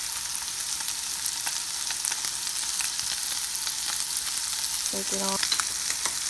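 Pork fried rice sizzles steadily in a pan with occasional scraping stirs, a loud continuous frying hiss throughout, while a voice briefly says a few words near the end.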